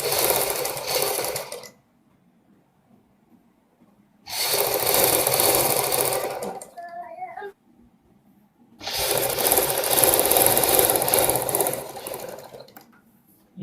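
Sewing machine stitching double piping onto a Kullu patti neck design, running in three bursts with quiet gaps between, close and fairly loud with no talk.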